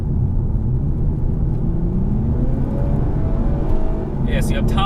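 A Toyota Camry TRD's 3.5-litre V6 engine and exhaust hum with a deep, steady rumble, pitch rising gradually as it pulls, with a brief higher-pitched squeak near the end.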